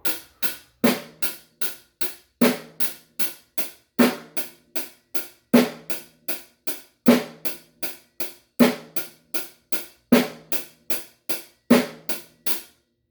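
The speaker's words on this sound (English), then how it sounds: "So it's going to be eighth notes on the hi-hat," A steady rock drum beat played alone: crisp hi-hat eighth notes ticking evenly with a snare cracking on the backbeat, close and clear throughout.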